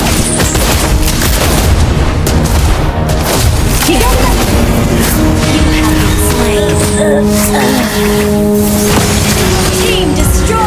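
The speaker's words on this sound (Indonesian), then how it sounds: "Team destroyed a turret" Explosive booms and crashing impacts as a turret is destroyed in Mobile Legends, layered over dense, continuous battle effects and a sustained musical drone, loud throughout.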